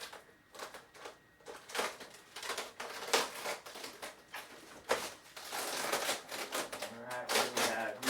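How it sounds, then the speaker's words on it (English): Foam packaging crinkles and rustles as a 2.1 m JetRuler F-18 RC jet kit is unwrapped, giving irregular crisp crackles and scrapes close to the microphone, moderately quiet throughout. "let's begin unpackaging and unwrapping this F-18 here"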